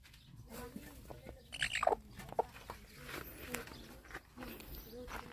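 A brooding hen gives a few short clucks and squawks amid rustling outdoor noise after a storm, fairly faint, with scattered knocks and a distant murmur of voices.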